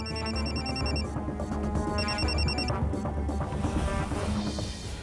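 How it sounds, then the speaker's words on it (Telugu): An electronic phone ringtone chirps in repeated bursts in a Telugu TV serial scene, two clear rings separated by a pause, over a busy background of music and noise. "ఫోన్ వస్తుంది"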